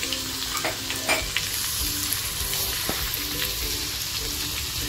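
Garlic, curry leaves and mustard seeds crackle and sizzle in hot oil for a tomato chutney, a moderate close frying hiss with a few sharp pops and light stirring, no voices.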